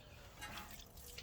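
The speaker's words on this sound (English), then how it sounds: "Oh yeah, squirting water out this side." Water squirting from the engine of a 1969 Ford F100 that sat for years with no hood, a short, fairly faint splashing spray with brief gushes.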